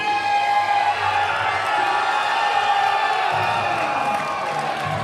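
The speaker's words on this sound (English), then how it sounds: "Listen to that crowd get behind him." Fight-night boxing crowd cheering and whooping for a boxer, a steady loud roar of voices and shouts that holds throughout with no letup.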